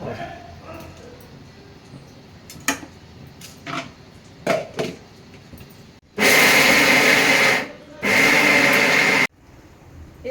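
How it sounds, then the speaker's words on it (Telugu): A mixer grinder whirs in two loud, sustained bursts with a short pause between them as it grinds soaked jowar (sorghum) into coarse rava. The grinding follows a stretch of quieter kitchen sounds and a few clatters. "ఇలా మిక్సీలు వేసుకుందాం రైట్ మిక్సీలు వేసి కొంచెం రవ్వ రవ్వ రుబ్బుకుందాం"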